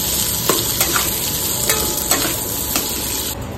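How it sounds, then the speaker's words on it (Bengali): Garlic frying in hot oil, a steady close sizzle broken by several soft clicks of a spoon stirring it, with no voices. "এখানে একটু রসুন ফ্রাই করে নিচ্ছি"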